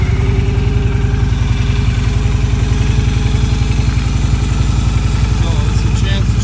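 A Victory V92C motorcycle engine on cold startup with the choke on, idling loud and close with a steady, rapid low-pitched thumping rhythm.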